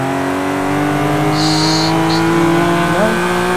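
Turbocharged 700 hp 1995 BMW E34 M5 with an S38 engine in Forza Horizon 3, revving high and steady near the top of its range, loud and close, with a brief gear-change dip near the end.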